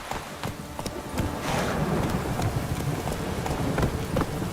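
Hoofbeats of Geralt's horse Roach in The Witcher 3: Wild Hunt, a steady clip-clop trot over a continuous wash of rain and ambient noise, moderately loud and without talk.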